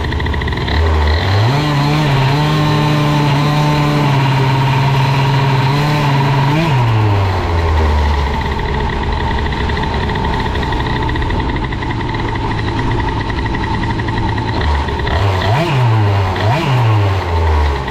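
An Airsal CPI 70 moped engine, boosted and freshly rebuilt, revs hard during a test ride: loud, close two-stroke whine climbing and holding steady, dropping off, then rising again in short bursts near the end, with no talking.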